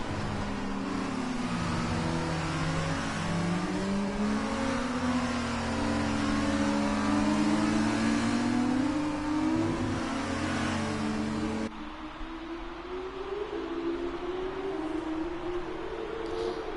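F2 race cars in a racing video game at the Abu Dhabi track, engines whining and rising in pitch as they accelerate, several cars overlapping with continuous revving that cuts to a quieter engine note near the end.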